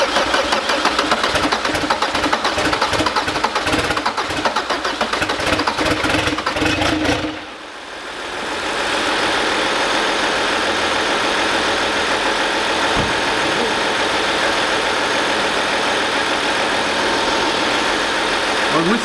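An Audi convertible's diesel engine, its turbo downpipe disconnected, roars loudly and raggedly with a harsh, unmuffled rattle, briefly dips, then settles into a steady loud rumbling idle.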